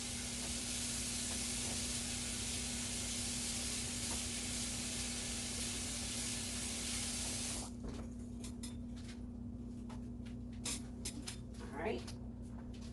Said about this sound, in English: Let me wash my hands, y'all.